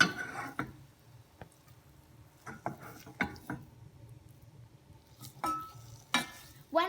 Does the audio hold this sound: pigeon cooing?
no